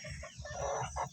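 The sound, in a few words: chickens clucking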